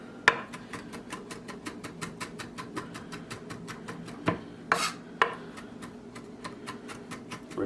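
A knife cuts through chicken wings on a board in a steady series of sharp ticking taps, with a few louder knocks and a scrape partway through, close and with no talk.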